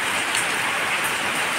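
Rain falls steadily and close by, a dense, even patter and hiss that stays level throughout with no voices over it.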